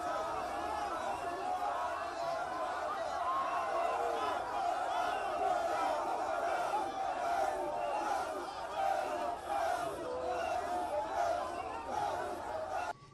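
A large crowd greets the president on foot in Mankono during a state visit, with a dense, continuous roar of cheering, shouting and chatter that stays loud and steady throughout.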